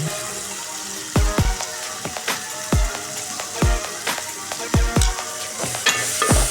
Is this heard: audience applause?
no